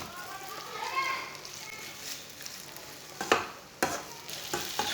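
Leftover rice stirred and fried in hot oil, with a soft sizzle and scattered sharp scraping clicks of a spatula against the pan, under faint background sound.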